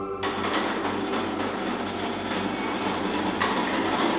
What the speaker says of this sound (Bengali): ওটা ট্রেনের শব্দ।